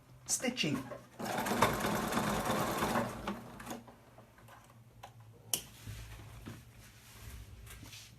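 A sewing machine chain stitching, its needle running in a steady, fast mechanical tick over several seconds, fairly quiet and close, while a person talks over it.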